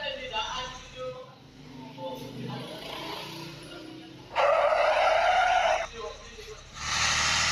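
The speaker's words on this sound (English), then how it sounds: "Oh no, the bus is going out of control." A bus in a bus simulator video game skids out of control, with tire screeching and engine noise in bursts that rise loud near the end, while a voice talks over it.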